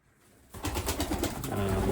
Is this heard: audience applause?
no